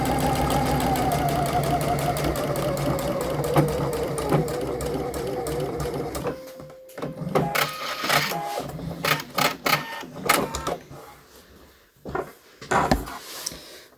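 Sewing machine stitching back along a V-neck seam in a steady fast whirring run for about six seconds, followed by short stop-start bursts of stitching and handling clicks.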